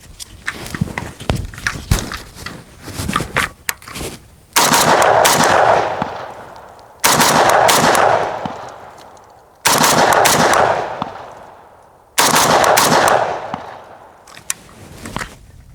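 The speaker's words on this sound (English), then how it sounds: "shoot a couple rounds and let's see how smooth this rifle runs" An M10X rifle chambered in 7.62x39 fires outdoors: four loud, sharp shots spaced a few seconds apart, each with a long rolling echo, after some quieter handling and shuffling sounds at the start.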